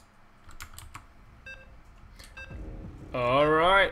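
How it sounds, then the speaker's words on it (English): Electronic beeps and clicky tones sound in a StarCraft 2 game lobby, scattered short bleeps followed by a louder warbling tonal burst, with speech faintly mixed in. "I can already hear the beeps in the background, and that, my dear ladies and gentlemen, is the sound of the StarCraft 2 heart beating somewhere on Blizzard servers"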